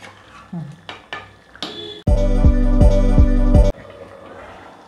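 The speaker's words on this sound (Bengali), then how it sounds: "ভালো করে নেড়ে দিচ্ছি" Salt being stirred through a pot of homemade chicken curry with a spoon, a few scattered scrapes and clinks giving way to a loud, rhythmic run of metallic scraping against the pot, then fading back to quiet.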